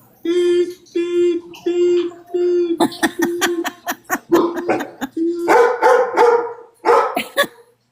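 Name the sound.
dogs barking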